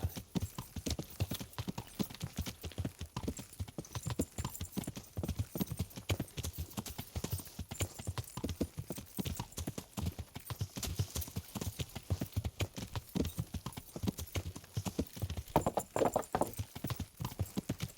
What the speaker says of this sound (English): Love this horse, he can just run forever.